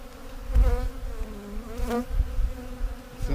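Honeybees buzz around an open, very defensive hive during a split check, a close, dense drone with individual bees sweeping past at shifting pitch.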